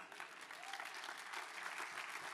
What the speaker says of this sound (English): Can we give the Lord a clap for that?